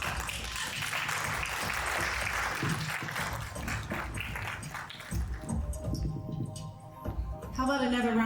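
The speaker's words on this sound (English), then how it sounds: "How about another round of applause for all of the ladies?" An audience applauds the women at a pageant finals and crowning, steady broadband clapping filling the room for several seconds before it thins out and a sung or sustained musical tone rises at the end.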